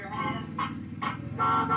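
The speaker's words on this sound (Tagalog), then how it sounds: "Busina, busina. Busina ka." Horn on a toy mini Audi rechargeable ride-on car with remote control, giving a few short electronic beeps over a steady hum. Soft voices are heard in the background.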